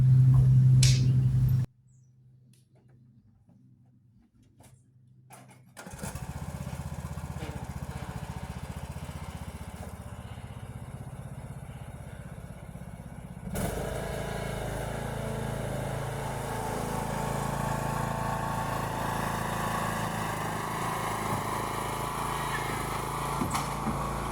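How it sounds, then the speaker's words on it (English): A riding lawn mower engine runs steadily and loud for most of the stretch, dropping out briefly near the start before roaring back with a constant drone. "Then you pull the mower forward."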